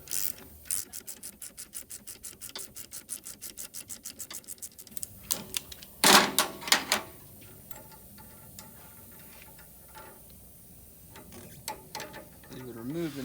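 Ratchet wrench loosening the top nut on a Toyota TRD Pro shock, a rapid run of crisp pawl clicks, then louder clanks and metallic rattles, later softer handling noises nearby.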